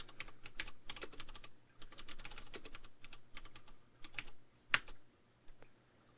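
Keys clatter on a computer keyboard as a command is typed, in quick irregular bursts of crisp clicks with short pauses and one sharper tap near the end, quiet and close with no talking.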